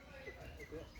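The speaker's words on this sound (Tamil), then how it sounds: "குயில் ரொம்ப சூப்பராக இருக்குது" An Asian koel calls outdoors, its faint tonal notes repeating a few times over a soft, steady background hiss.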